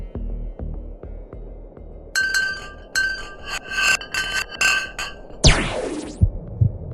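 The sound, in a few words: ice chunk falling down a deep borehole in ice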